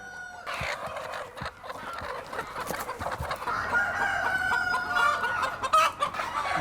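Chickens and a rooster at a Korean poultry farm raising free-range laying hens: busy overlapping clucks from many birds, with a rooster crowing near the end, close and fairly loud with no talk.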